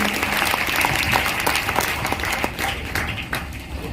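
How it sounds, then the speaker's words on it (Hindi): Loud applause from a seated audience welcoming newcomers to a program, a dense continuous clatter of many hands lasting the whole stretch without talk. "एक बार जोरदार तालियां नए साथियों के लिए"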